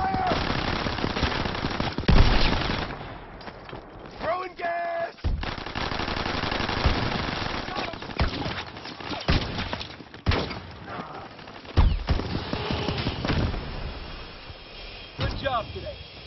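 Machine-gun suppressing fire rattles in a shooter video game, with long loud bursts of rapid shots broken by short pauses, thuds and crashes, and some voices mixed in.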